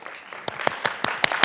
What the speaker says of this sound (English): you know that we clap for equations